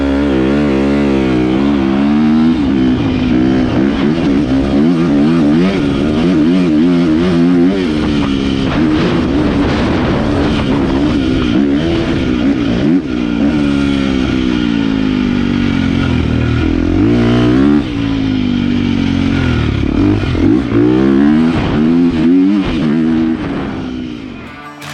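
A 2023 KTM 350XCF dirt bike starting off in second gear at quarter throttle, its loud close engine buzzing and rising in pitch through the whole stretch, with a few dips and surges as it pulls away.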